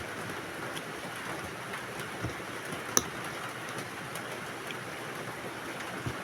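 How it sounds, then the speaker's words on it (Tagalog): Rain falls outdoors as a steady, soft hiss, fairly faint and even throughout, with a few scattered drip ticks and no voices. "Ulan na naman mga guys, oh."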